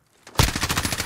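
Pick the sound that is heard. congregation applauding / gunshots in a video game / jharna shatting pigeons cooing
gunshots in a video game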